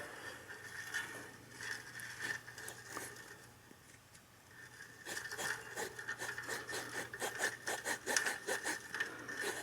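A hand saw cuts wood for a wooden kayak, the blade slanted against the piece, in rapid rasping strokes that start irregular and faint, pause, then settle into a steady, louder back-and-forth rhythm near by.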